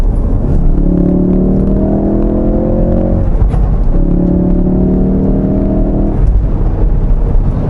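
Ford Focus RS engine revving hard under turbo boost, two long sustained rising pulls with a brief lift between them, loud and close with no talk.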